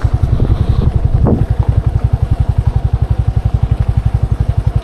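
A motorcycle engine thuds in a rapid, steady rhythm close to the microphone, with wind rushing over it as the bike rides along a forest buffer-zone road.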